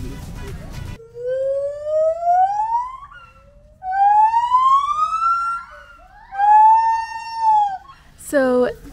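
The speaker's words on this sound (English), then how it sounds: "the noise that these gibbons are making are them warning the others that there are humans here, and it just gets louder and louder and louder." Gibbons in a Thai wildlife sanctuary call to warn the group that humans are near, long rising whooping wails repeating in three swelling phrases that grow louder, ending in a sharp high shriek.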